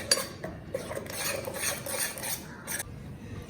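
Spoon stirring green chutney into a curd and cream paneer tikka marinade in a bowl, with soft scraping, rubbing and occasional clinks against the dish, close and fairly quiet.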